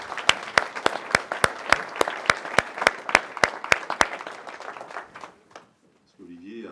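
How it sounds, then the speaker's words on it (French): Applause from the audience at a mayor's New Year ceremony in Penchard, a run of sharp regular claps that thins out and stops, after which a voice begins to speak. "Je crois qu'on peut le remercier et le féliciter en l'applaudissant."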